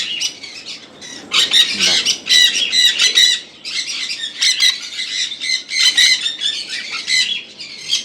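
Adult sun conure parrots at a large bird farm in Kolkata give loud, shrill, near squawks in dense repeated bursts with short gaps, and a faint voice sits underneath.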